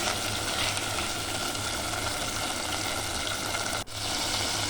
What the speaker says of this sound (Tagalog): haluin lang natin hanggang sa ma-prito siya guys